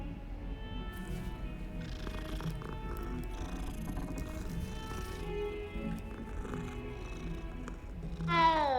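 A cat meows faintly a few times inside the Hogwarts Legacy video game, set over quiet, steady game ambience.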